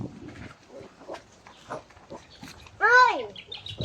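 A goat bleats once, loud and wavering, nearby, while people talk on and off around it during feeding.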